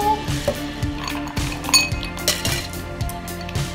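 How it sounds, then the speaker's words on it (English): Ice cubes clink and rattle into a glass while a margarita is being made, a steady run of bright chinks over background music, fairly close and loud. "I'm gonna start with some ice cubes."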